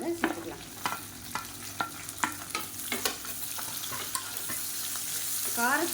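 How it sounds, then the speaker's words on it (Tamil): Beetroot, slit green chillies and long-cut onion sautéing in ghee: a soft background sizzle punctuated by regular scraping strokes of a spoon stirring the pan, close and fairly quiet. "இப்போ பாருங்கள், பீட்ரூட் நல்லா வதங்கிருச்சு"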